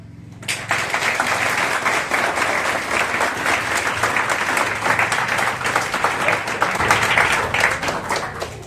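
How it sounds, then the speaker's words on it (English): A hall audience at a university vice-chancellor's speech claps loudly and continuously, a dense even roar of hands that starts abruptly and holds steady throughout. "please give me a clap."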